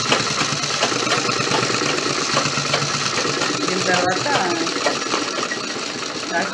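A sewing machine stitches the seam of a circular palazzo pant, a steady, fast mechanical whir running unbroken and fairly loud throughout, close to the listener.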